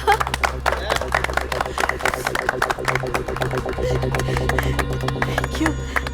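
Studio audience clapping for the bumper tambola winner at a game held inside an old age home, a dense steady patter of applause throughout over a low hum, with some voices mixed in.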